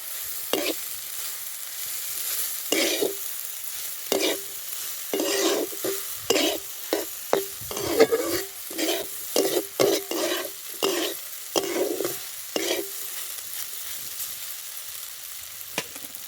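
Kurdai bhaji with turmeric being stirred and fried in a pan, with repeated scraping spoon strokes in an irregular rhythm over a soft sizzle, close and fairly quiet, without voices.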